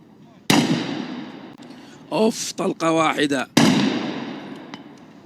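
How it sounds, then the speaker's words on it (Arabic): Two sharp gunshot cracks from a UAE SWAT team's rifle, a few seconds apart, ring out loudly with echoing tails, and someone talks excitedly between them. "هاي آخر طلقة خلاص"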